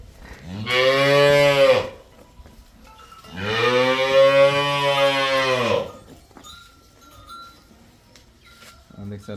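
A cow moos twice on a dairy farm with buffaloes, long and loud, each call lasting over a second, with a quieter pause between and faint clinks afterward.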